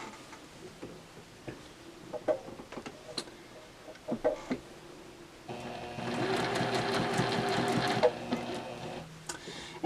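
A sewing machine joins binding onto a crochet blanket, first with scattered clicks and taps, then a steady close mechanical whirr of rapid stitching for a few seconds before it stops.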